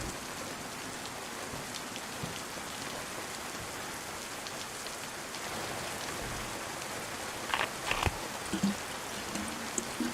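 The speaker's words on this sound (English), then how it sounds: "the rain is getting stronger." Steady rain pours in the video game DayZ, a constant even hiss of drops on surfaces, with a few brief louder knocks near the end and no talk.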